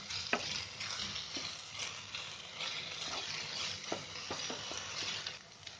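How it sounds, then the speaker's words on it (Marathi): Sweet corn upma is stirred in a pan, a soft steady sizzle broken by a series of light scraping and tapping strokes from the spoon, fairly quiet and close, with no speech. "ते थोडंसं असं हलवायचं 1-2 मिनिट"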